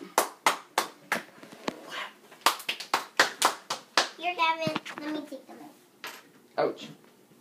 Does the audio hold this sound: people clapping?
yes